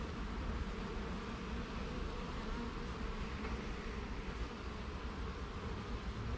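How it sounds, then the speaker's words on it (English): Bees in a beehive give a continuous, even buzzing hum, close and steady throughout with no talk over it. "There's bees up in here"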